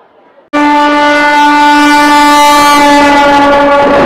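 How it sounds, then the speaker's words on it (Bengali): A Vande Bharat train at Howrah station gives a loud, sustained horn blast with a steady chord of tones that starts abruptly and holds close and unbroken for several seconds. "আমার পিছনে এখন বন্দে ভারত।"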